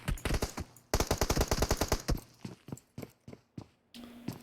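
Gunfire in the battle-royale game PUBG Mobile during a competitive esports match: rapid bursts of automatic shots in quick, steady volleys, then sparser single cracks with short gaps, fairly close and loud.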